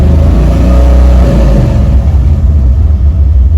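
A car engine running rough at about 2,000 RPM: a loud, close, heavy low rumble with a shaking, uneven throb that eases slightly after a couple of seconds. No voices.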